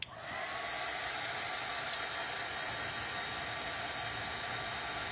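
A hair dryer blows steadily on a small spot of a DIY ladybug craft. The airy whoosh is continuous and even from start to finish, with no talk over it.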